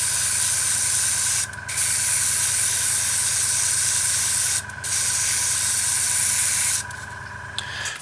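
An airbrush sprays paint coats onto a 1/48 Eduard F6F-3 Hellcat model kit, giving a close, steady hiss with a constant hum beneath and three short pauses between bursts.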